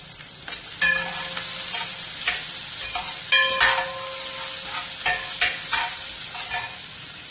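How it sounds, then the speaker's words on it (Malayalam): Onions sautéing in a pan for a Kerala beef fry, a constant close sizzle broken by repeated scraping and clinking stirs of a spoon against the pan, with no talking. "ഇത് ഉള്ളി ഇവിടെ ഇപ്പോൾ വഴന്ന് വന്നിട്ടുണ്ട്."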